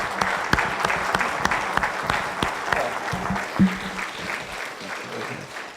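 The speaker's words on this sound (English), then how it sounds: "I'd like to give a round of applause to the community for all that y'all have done for the young people of this state." Audience applause at a community honoring ceremony, many hands clapping steadily with individual sharp claps standing out near the front, gradually thinning toward the end.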